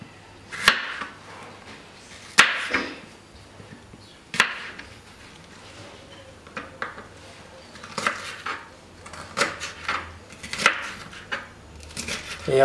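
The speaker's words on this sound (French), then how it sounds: "Maintenant, c'est autour du poivron. On taille des grands morceaux, des grandes juliennes" Knife slicing a bell pepper into long julienne strips on a cutting board, giving sharp irregular chops and knocks of blade against board, close and fairly loud, with quieter scraping between strikes.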